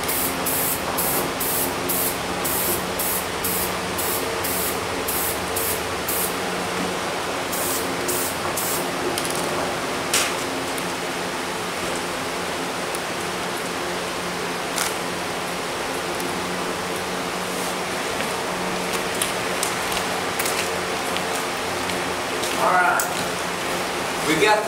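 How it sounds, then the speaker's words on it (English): A light coat of medium adhesive sprayed onto a show goat's leg hair in a steady hiss, with short pulsed bursts near the start, while a voice talks over it. "we'll give it a light coat of adhesive"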